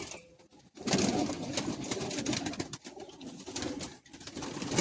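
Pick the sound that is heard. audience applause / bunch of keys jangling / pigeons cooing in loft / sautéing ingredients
pigeons cooing in loft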